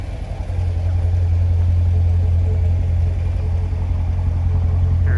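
A 2017 Chevrolet Corvette Grand Sport convertible V8 idles close by outdoors, a steady deep low-pitched rumble holding even and loud throughout with no voices over it.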